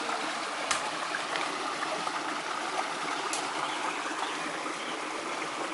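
A small waterfall on a hiking and fishing trip gives a soft, steady hiss and trickle of falling water, fairly faint and continuous, with a couple of brief clicks.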